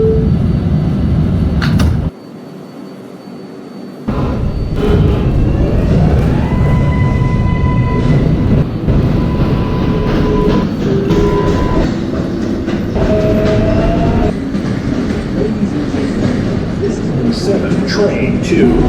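A Manhattan-bound 7 local subway train in a Roblox game, a loud rumbling rail roar with rhythmic wheel clatter and rising motor whine as it pulls away, broken by a brief quiet gap and overlaid with announcements.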